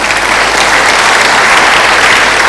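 A church congregation at a Wednesday fellowship service claps loudly and steadily, a dense, sustained wash of applause with no break across the whole moment.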